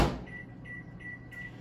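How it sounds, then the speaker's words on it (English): A microwave oven heating a dish for a corn casserole, starting with a door thump, then a steady low electric hum and whirr, close and even, with no talk. "I'm just gonna stick this back in the microwave here for about 30 seconds or so."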